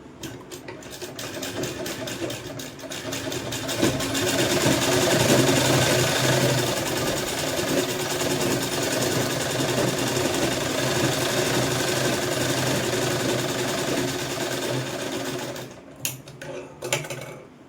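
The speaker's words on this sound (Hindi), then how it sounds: "5 नंबर की सिलाई से मैं इसको रोक लूँगी पहले।" A sewing machine runs a steady, loud, continuous tacking stitch along a kurti collar for most of the stretch, slowing into a few short bursts at the end.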